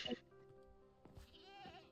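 A goat bleats in the Minecraft video game, one short quavering cry followed by a wavering bleat, quiet and close, with people chatting over it.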